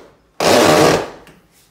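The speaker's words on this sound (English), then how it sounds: "I'll push this dishwasher back in place." LG dishwasher slid back into its cabinet opening, giving a loud broadband scraping rumble that lasts about half a second, then fades over the next few tenths with a faint knock after.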